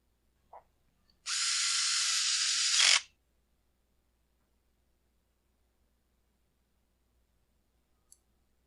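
A bolt is driven into the brake handle of a Husqvarna 572XP chainsaw: a steady, close, hissing power-tool burst of about two seconds, with a few faint clicks before and after.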